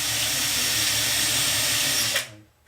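Power tool whines steadily while deburring slots on a revolver build, loud and continuous, then spins down and stops near the end.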